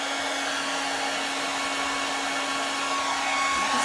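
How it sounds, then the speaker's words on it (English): Hairdryer blowing steady hot air over a fluid art resin pour made with PVA, a constant close whine and rush of air with no talking. "I'm just going to get my hairdryer and I'm going to put a bit of heat on it."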